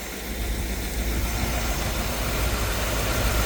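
A 1952 GMC 100 pickup's crate 350 V8 engine idles nearby, its low throb continuous and even with no talking.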